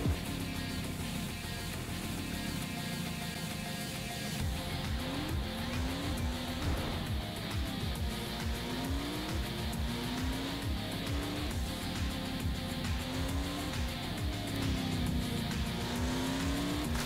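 An off-road truck in a driving video game, heard from a first person view, with a continuous engine drone that rises and falls in pitch as it revs, plus tire squeals and rumbling, loud and steady throughout.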